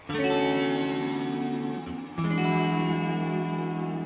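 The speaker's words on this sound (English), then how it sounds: "That kind of starts to sound like the pitch shifting stuff of the Rainbow Machine, right?" Sustained electric guitar chords processed through a shimmering pitch-shifting effect that adds an upper octave, ringing loudly with a brief dip before resuming.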